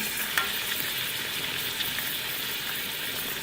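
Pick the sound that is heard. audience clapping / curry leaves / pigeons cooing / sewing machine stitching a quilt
curry leaves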